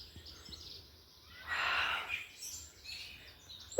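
Birds singing on a countryside walk, a faint chirping phrase rising in the middle against a quiet outdoor background, distant and brief.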